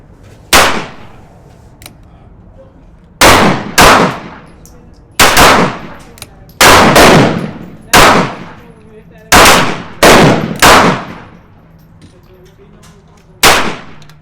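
Sharp .22 revolver shots from a Heritage Rough Rider or Ruger Wrangler at an outdoor range, about eleven loud single reports with brief ringing decay, fired in irregular pairs and singles with pauses between.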